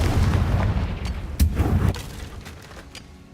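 A fire-blast spell explosion in a Harry Potter video game, a series of booming, gunfire-like blasts with sharp cracks and rumbling low-end impacts that fade out over a few seconds, with no voices.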